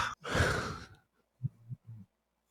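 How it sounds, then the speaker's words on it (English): A single long, breathy yawn lasting about a second, close and fairly loud, followed by a couple of short, low voiced exhales. "you started off with a yawn"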